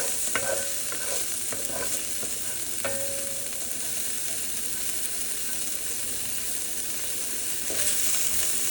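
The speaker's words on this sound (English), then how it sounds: "They're gonna saute nicely in there with the garlic, releasing the flavor." Chicken and garlic sautéing in a pan for lemon chicken give a constant dense sizzle, with a few light utensil clicks and scrapes early on and no talk.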